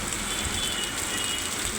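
Rain coming down as a steady, even hiss, fairly loud and close, continuing unbroken for the short stretch.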